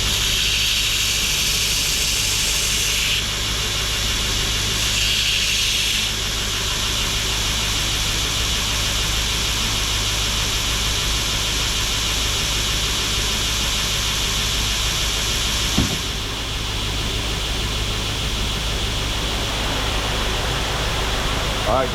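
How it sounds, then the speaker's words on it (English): A ventilation system runs steadily beside an Oklahoma Joe's offset smoker, giving a loud, broad whooshing hiss with a low hum underneath that continues throughout, with a brief thump near the end. "sorry about the noise, but I turned my ventilation system on"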